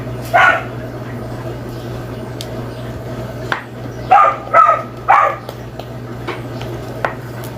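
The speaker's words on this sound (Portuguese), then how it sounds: "relevem os cachorros, gente." Several short dog barks and yips in quick bursts, a couple spaced apart, over a steady low hum in a room.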